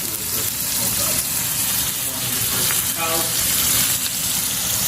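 Steak sizzling in a frying pan with aromatics, a steady loud hiss and crackle that runs throughout, with faint voice and kitchen noise underneath.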